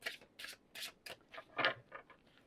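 A deck of cards being shuffled and cut, heard as a run of quick, close riffling bursts in a steady rhythm, with no talking.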